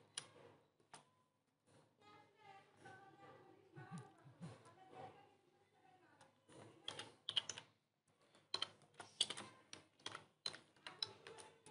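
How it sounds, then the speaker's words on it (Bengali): Card details are typed on a computer keyboard in quiet, close, irregular runs of soft key taps, with light speech-like sound early on. "আমি আমার কার্ডের ইনফরমেশন দিয়ে দিচ্ছি"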